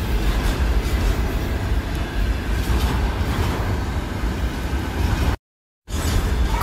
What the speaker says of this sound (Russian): А теперь мы видим, как движется товарный поезд